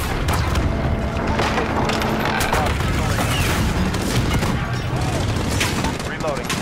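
Constant heavy gunfire and explosions from the Call of Duty: Modern Warfare campaign fill the scene with rattling automatic bursts, booms and splintering impacts, loud and continuous under voices calling out.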